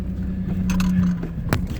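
A truck with heavy-duty suspension rolls over tree roots on a rutted trail, with a low engine rumble throughout, a few bumps and rattles, and a sharp knock near the end as a wheel drops off a root.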